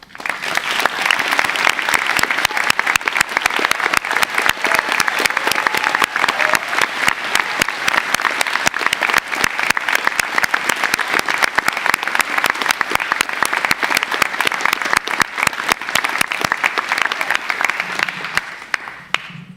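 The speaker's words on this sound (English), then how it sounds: "Can we give another round of applause?" Sustained loud applause from a large graduation ceremony audience, dense steady clapping filling the hall for about twenty seconds without a break.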